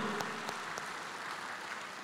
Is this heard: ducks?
no